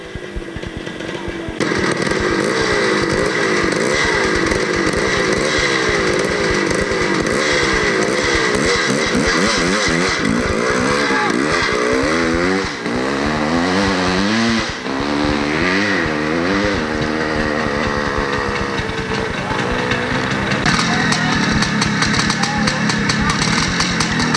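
A CZ dirt bike engine at a 1990 hare scramble, Hollister Hills, runs loud and close with a raspy two-stroke buzz, idling unevenly with occasional wavering revs throughout.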